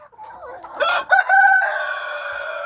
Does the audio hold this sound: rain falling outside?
no